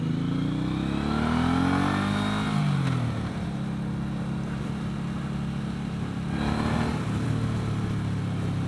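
A 2017 Suzuki Boulevard M109R Boss motorcycle with its large engine pulls under way in second gear, a steady loud mid-pitched drone that rises in pitch, dips, then climbs again as the rider accelerates.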